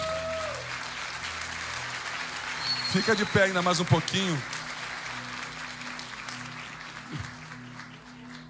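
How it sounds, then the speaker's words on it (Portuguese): A church congregation claps through the middle of the clip, a short burst of applause rising and fading under a preacher's voice, with sustained organ or keyboard tones in the background. "Você pode aplaudir ao Senhor?"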